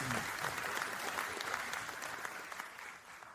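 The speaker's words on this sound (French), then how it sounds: "Vous pouvez l'applaudir." A conference audience at a low-carbon cement keynote applauds a guest in a steady, dense wash of clapping that stays fairly quiet and distant for a few seconds, with no voices over it.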